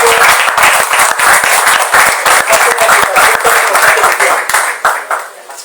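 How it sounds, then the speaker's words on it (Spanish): Loud, close applause from a conference audience at the Museo de las Ferias, a dense steady wash of clapping that holds for several seconds and then fades out. "este aplauso por el esfuerzo que ha hecho"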